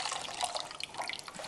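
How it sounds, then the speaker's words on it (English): A small amount of water is scooped from a container into a mixing tray while patching drywall. It gives a brief, close, bright sloshing and dripping splash. "I just scoop some water from here."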